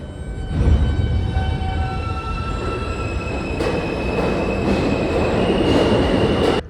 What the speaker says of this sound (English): Is this the Z train?